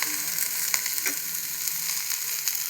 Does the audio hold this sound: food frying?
yes